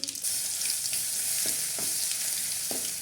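Mustard seeds and garlic paste fry in hot oil, a bright continuous sizzle close by, punctuated by a few sharp pops and spatters.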